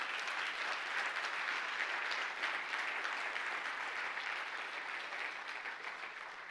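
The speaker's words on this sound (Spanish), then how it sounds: "Dele un fuerte aplauso al Señor." A church congregation claps together in steady, dense applause that stays full for several seconds and then slowly tapers, heard from a moderate distance with no speech over it.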